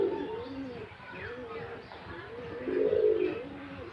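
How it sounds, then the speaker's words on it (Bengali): Pigeons coo in low, rolling, repeated phrases, fairly close, with faint bird chirps and soft background noise. "এখানে খুব সুন্দরভাবে কবুতরগুলো কে দেখা যাচ্ছে"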